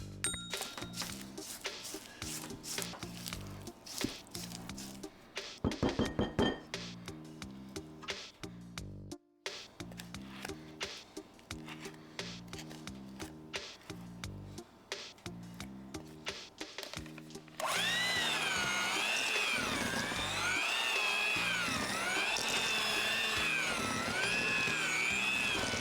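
An electric mixer creams butter and sugar for a Jamaican rum cake in stop-start bursts of whirring and rattling, then runs continuously with a strong, even whir for the last third.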